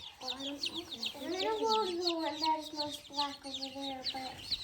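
Day-old baby chicks on a farm peep close by in rapid, overlapping high chirps, with a voice and an adult's voice talking over them.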